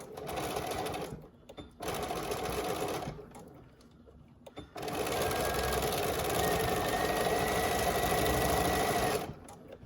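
Sewing machine zigzag stitching elastic for a scrunchie wristlet keychain, a short burst of whirring stitches, a pause, a brief restart, then a long steady run back and forth before stopping; nearby and fairly loud.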